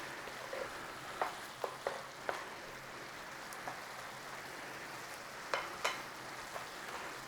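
Pork with dry thyme fries in a pan as its fluid cooks off, a soft, steady bubbling sizzle broken by a few sharp ticks and pops.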